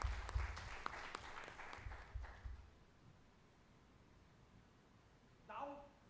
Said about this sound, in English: there should be round of applause for my India for that thing